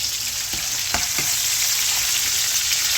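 Beef pieces searing in batches in a hot greased frying pan, a dense, steady sizzle with a few brief clatters of stirring near the start, close and unaccompanied by talk.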